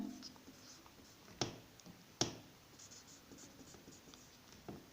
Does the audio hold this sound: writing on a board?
yes